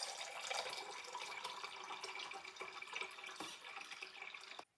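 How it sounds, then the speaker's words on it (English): About two cups of water poured into a medium saucepan while cooking, a close, continuous splashing trickle with small drips that stops abruptly near the end. "So now we gotta pour water into our medium saucepan."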